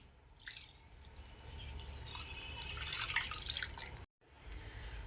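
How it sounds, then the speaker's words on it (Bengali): Water and half a litre of milk are poured into a pan over fried cashews, raisins and poppy seeds, making a steady close pouring and trickling splash that cuts off briefly near the end. "এখন আমি শিল ধোয়া জলটা দিয়ে দিচ্ছি। একই সাথে হাফ লিটার দুধও দিয়ে দিচ্ছি।"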